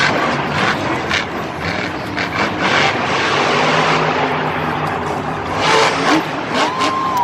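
A monster truck engine roars at an arena event as the truck launches into a jump, a loud, continuous throaty drone with surging revs and crowd noise behind it.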